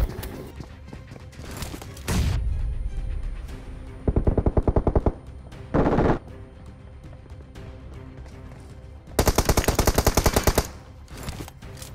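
Gunfire in the video game PUBG: several sharp bursts of rapid automatic fire, a short burst near the start, a dense rattling burst mid-clip and a longer loud burst later, separated by quieter in-game ambience.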